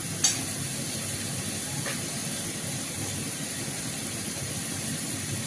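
Cumin, ginger and garlic paste sizzling in a hot cooking pan, a steady, even hiss that runs throughout, with a brief tap near the start.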